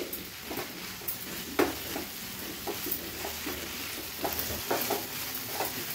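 Ground soya chunks being stir-fried in masala over a high flame, an even sizzle broken by repeated spoon scrapes and knocks against the pan.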